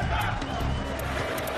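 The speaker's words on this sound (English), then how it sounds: "The roar of the crowd and the tension play their part." At a World of Tanks Wargaming.net League gaming tournament in Kiev, a large crowd roars with loud, sustained cheering and shouting that fills the arena without letup.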